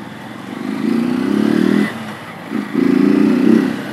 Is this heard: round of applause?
no